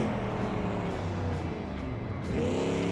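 A video game car engine in BeamNG drones steadily with shifting revs, a constant motor hum that rises slightly near the end, loud and continuous with no talking.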